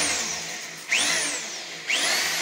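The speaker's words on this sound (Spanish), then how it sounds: "Primero, coger el taladro que no es percusión, ¿cierto?" A power drill runs in plain rotation mode without hammer action while installing bathroom accessories, whining up twice in quick bursts, each pitch rising then easing off, loud and close.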